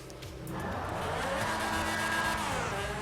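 Video-game car engine on a stunt map with a burning roof, steady and loud after a quiet start, with a revving drone and faint tire squeal as the car drives forward with little grip.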